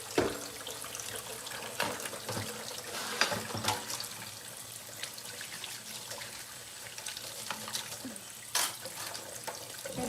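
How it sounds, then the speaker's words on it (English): Tap water runs steadily into a sink, a continuous close splashing hiss with occasional clinks and knocks, without talk. "after I cut this water off."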